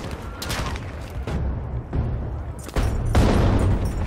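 V1 rocket airstrike in the Battlefield V video game, a series of heavy, booming blasts and rumbling impacts that build in loudness over a few seconds, dense and close with ongoing battle noise.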